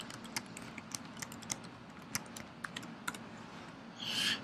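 Rapid keystrokes on a computer keyboard while credit card details are entered, a steady run of light, close clicks with a brighter burst of tapping at the very end.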